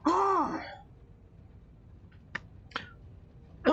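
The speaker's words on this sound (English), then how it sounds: "I'm coughing up stuff all day. Allergies." One loud, rasping throat clearing from a person with allergies, followed by a few short, faint clicks, all close to the microphone.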